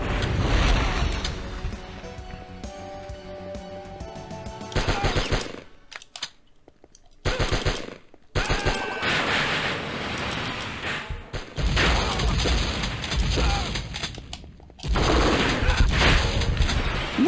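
Shotguns blast repeatedly in the Die Hard Trilogy video game, loud dense volleys of gunfire layered over game music and effects, with brief drops to near silence between bursts.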